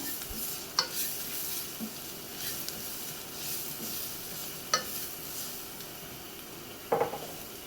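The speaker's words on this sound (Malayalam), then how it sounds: "ഈ പൊടികളൊക്കെ ഒന്ന് ഇളക്കി മൂപ്പിച്ചെടുക്കാം." Spice powders being stirred and roasted in a pan while making lasooni methi with fenugreek leaves and garlic: a steady soft scraping stir over low sizzling, with a few sharper utensil knocks against the pan.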